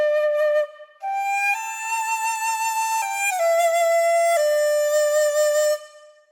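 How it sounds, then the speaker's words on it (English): Chinese bamboo dizi flute with a resonating paper membrane gives a bright, buzzy tone, playing sustained melodic notes with short pauses and pitch steps, loud and close with no talking. "This is the Chinese bamboo flute called dizi."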